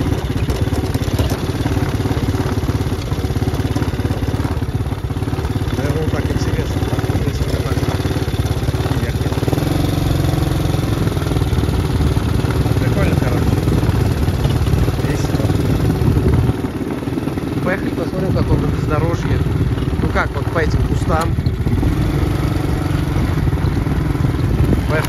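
A 125cc quad bike engine runs steadily throughout, a loud, close, continuous mid-pitched drone with clattering rattles and a brief dip in the middle.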